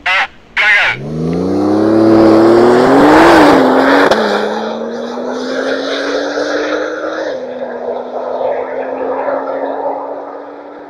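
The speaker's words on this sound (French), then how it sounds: "tu vas mettre gaz à fond et prendre 250 km/h." A race car at Circuit Paul Ricard fires up with two short bursts, then goes to full throttle, its engine roaring loud and close as it climbs through the gears before settling into a sustained, high steady drone as it pulls away.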